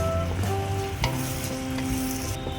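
Three sliced tomatoes sizzle in hot oil as they are stirred while cooking tangra fish tel jhal. A steady, close frying hiss continues throughout, with a brief utensil scrape about a second in.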